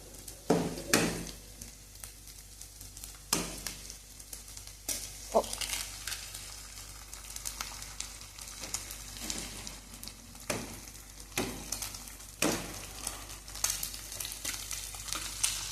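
Two eggs poured into a pan with onions and frying, a low steady sizzle broken by sharp clinks and scrapes of a utensil against the pan at irregular intervals.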